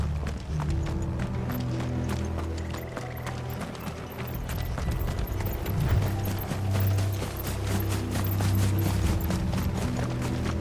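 Horses' hooves clip-clop rhythmically in the video game Final Fantasy XVI, a steady run of rapid hoof beats over a low rumbling game soundtrack, continuous and fairly loud without speech.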